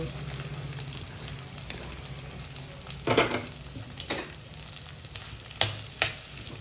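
Onions and green chillies fry in oil in a pan as crab with gongura is cooked, giving a steady low sizzle with a few louder stirring scrapes and clatters, no talk.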